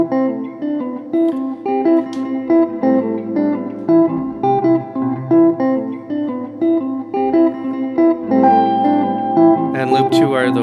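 Electric guitar riff repeating on a Ditto X4 looper, a clean, evenly pulsing melodic phrase cycling several times over ten seconds, loud and close, with a brighter strum near the end.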